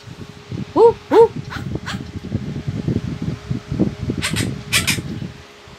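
A bird squawks a few short barks, imitating a dog, over a constant low hum, followed by a couple of sharper shrill calls.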